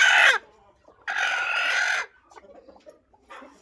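Close, loud bursts of a backyard chicken clucking and calling at home, two strong squawking phrases followed by softer clucks, with no talk over them.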